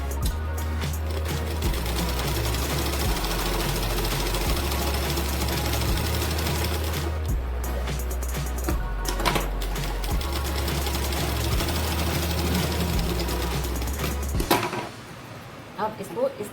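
A sewing machine stitching a blouse seam, a fast, loud rhythmic clatter running in bursts with short pauses, a voice talking over it, then stopping near the end.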